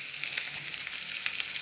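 Finely chopped garlic and ginger fry in hot oil for a tarka, giving a close, steady crackling sizzle with small pops and no voices.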